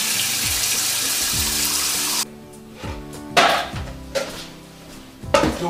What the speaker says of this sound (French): Et je rajoute de l'eau froide sur mes œufs.